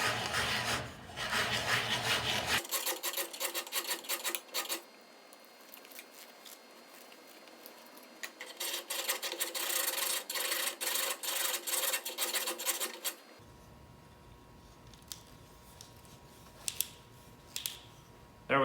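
Wooden dowel sanded by hand in quick rasping back-and-forth strokes that come in two long bursts with a quiet pause between them, close and fairly loud, then a few scattered light taps, with no talk.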